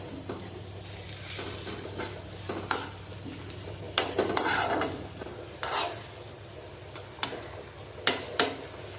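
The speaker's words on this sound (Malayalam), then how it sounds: "നല്ലപോലെ ഒന്ന് ഇളക്കി യോജിപ്പിക്കാം." A spoon stirs masala spice powder into egg curry in a pan, giving scattered scraping clicks and soft rubbing strokes at a moderate distance over a low steady hum, with no talk.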